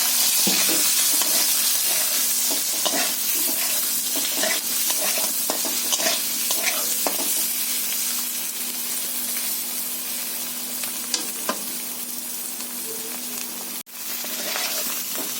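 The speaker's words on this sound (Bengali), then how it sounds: "এই মাছ ভাজা তেলের মধ্যে আমি আলুটা দিয়ে দিচ্ছি।" Potato pieces fry in a kadai of oil already used for frying fish, giving a loud, continuous, crackling sizzle. Scraping stirs and one sharp click near the end rise over it, close and alone.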